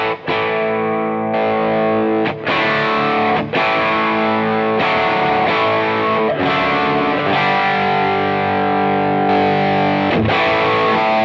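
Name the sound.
electric guitar through Studio Rats prototype amp, 80s lead drive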